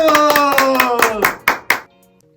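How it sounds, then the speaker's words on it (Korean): A church young adults' group claps in short, rhythmic bursts, with voices calling out over the claps. The clapping ends abruptly, and a brief quiet tail follows. "박수! 박수!"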